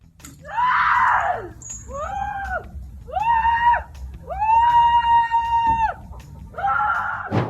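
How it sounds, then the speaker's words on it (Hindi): A girl on a swing set high in mountain scenery screams in five loud, drawn-out bursts, each rising and falling in pitch, with short gaps between them and no talk. "क्या ये लड़की इस झूले की वजह से चिल्ला रही है"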